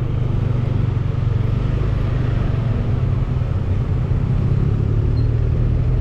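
Car driving along a busy Raya Kediri Street in Tuban, Bali, with a steady low engine and road rumble and continuous traffic noise throughout, no pauses.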